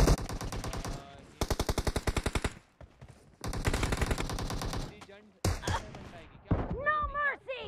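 Gunfire in the video game PUBG Mobile crackles in rapid automatic bursts, several long rattling strings separated by short gaps, loud and close, with a voice talking over parts of it.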